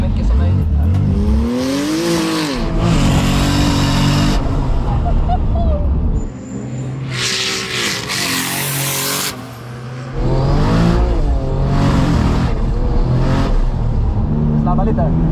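Race cars accelerate and rev hard at a track day, the engine pitch climbing and dropping in repeated surges, loud and close, with voices talking over the roar.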